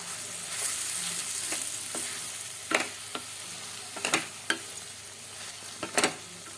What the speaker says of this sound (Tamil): இப்போ இதை நல்ல எல்லா இடமும் நல்லா வதக்கி விட்டாச்சு